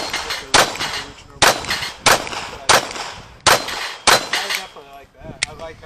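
Bullets striking a steel plate rack on a shooting range ring out as about eight sharp metallic clangs, spaced irregularly and loud, each with a brief bright ring-off; faint voices are heard between impacts.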